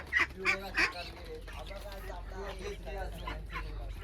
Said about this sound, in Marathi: इकडे इकडे या बघा बदक